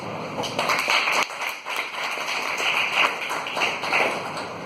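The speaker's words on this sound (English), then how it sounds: "A great round of applause for that talented and resilient woman who led us." Audience clapping at a Toastmasters club meeting, a dense continuous patter of hands that dips briefly and swells again, fairly close and alone without talk.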